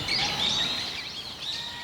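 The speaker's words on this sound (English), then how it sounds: "Today's ambient noise brought to you by a bunch of birds and a baseball game in the distance." Birds chirp and tweet outdoors in Setagaya, Japan, a few bright calls close by over a soft ambient background.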